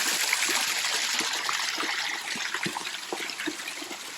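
Water from a water feature continuously splashing and trickling nearby, with irregular small drips and gurgles over a steady rushing flow.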